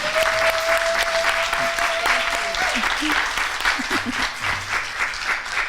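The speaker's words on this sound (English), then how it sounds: "So one more round of applause." Sustained audience applause at a closing ceremony, a full, even wash of many hands clapping, with a thin whistle-like tone early on and a few voices calling out faintly beneath.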